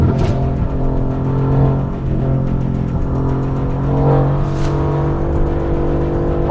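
Mercedes-AMG GT engine pulling hard on a race track, a steady loud in-car drone that holds a strong sustained pitch, with a brief rising whine and a second surge partway through.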